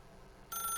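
In The Stanley Parable, a telephone suddenly begins ringing after a brief hush, its bright electronic bell tone sustained and close.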